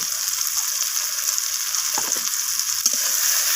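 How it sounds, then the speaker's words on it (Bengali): Spices sauté with onion and tomato in a pan, giving a constant bright hiss of frying, with a couple of soft scraping stirs near the end, close and fairly loud. "তো সমস্ত কিছু মশলা আমি এইভাবে পেঁয়াজ আর টমেটোর সাথে কষিয়ে নিচ্ছি"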